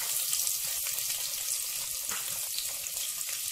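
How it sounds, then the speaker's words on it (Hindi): Chopped onion, about a bowlful, fries in hot oil in a pressure cooker for egg biryani, a dense, close, even sizzle that holds steady throughout. "अब हम इसमें डालेंगे 1 कटोरी कटा हुआ प्याज"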